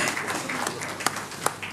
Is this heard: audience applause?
yes